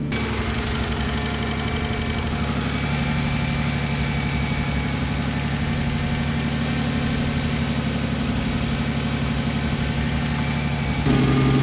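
A BMW E46 with a turbo conversion and external wastegate idles steadily while warming up, a loud, close, even engine burble with a faint vibrating rattle, unchanging until a slight shift at the very end.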